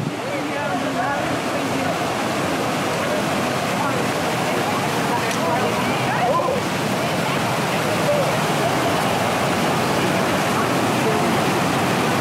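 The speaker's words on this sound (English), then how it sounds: "Nice waterfall." Water pours over Eagle Falls at Lake Tahoe in a continuous broadband rush, close and steady throughout, with people talking faintly beneath the roar.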